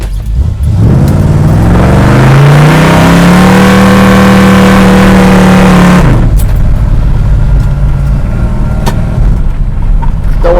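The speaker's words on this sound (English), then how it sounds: "Nice little one-wheel burnout back there." A 1973 Dodge Dart Swinger with a 318 V8 revs hard during a one-wheel burnout, engine pitch climbing and holding loud and close for several seconds before dropping back to a rough idle.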